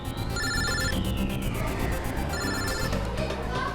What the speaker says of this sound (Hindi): अभिजीत का फोन।